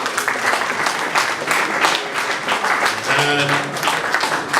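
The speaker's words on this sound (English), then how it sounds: "A round of applause for the panel." An audience at a power-sector dialogue event gives a panel a sustained round of applause, steady dense clapping throughout with faint voices mixed in.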